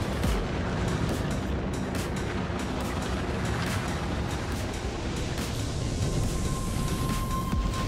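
Missiles launched from a ship in Star Citizen, a dense continuous barrage of booming blasts and rumbling explosions that fills the whole stretch at steady loudness, with a faint rising whine near the end.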